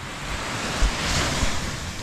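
Ocean waves break on Beau Vallon beach on Mahé, Seychelles, in a dense, continuous wash of surf with wind buffeting the microphone, loud and near with no voices.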